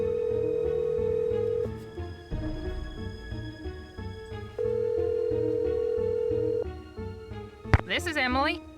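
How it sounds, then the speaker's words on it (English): A telephone in the Nancy Drew game Message in the Haunted Mansion sounds loud, steady ringback tones broken by short pauses. A brief burst of higher warbling tones comes near the end. "Go to the phone and talk to one of Nancy's friends, Emily."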